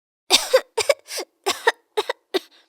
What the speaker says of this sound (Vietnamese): Từ đêm qua đến giờ tớ cứ ho suốt à